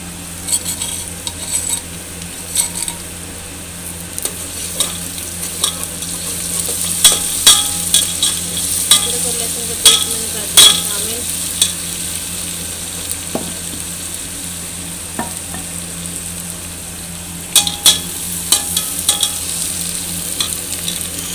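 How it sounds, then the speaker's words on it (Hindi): Onions fry in a pan with a steady sizzle, while a utensil stirs and scrapes against the metal in scattered clinks throughout, close and fairly loud with no talking. "प्याज ब्राउन हो रहे हैं"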